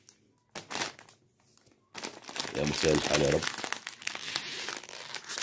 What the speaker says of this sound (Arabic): هنفتح كيس كيس ونحط بقى الفارغ ايه